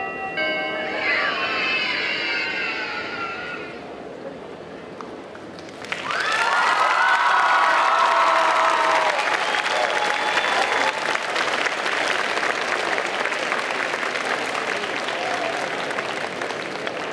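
A crowd at a Bordeaux Geekfest 2024 cosplay parade bursts into loud, sustained applause and cheering, with shouts and whoops rising over the clapping; softer crowd sound and a voice come first, then the full ovation swells and continues.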